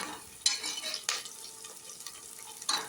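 Onions with green chillies and curry leaves sautéed for chicken biryani, a crackling sizzle with repeated scraping strokes and a few sharp clinks of a ladle on the pan, close and unaccompanied by speech.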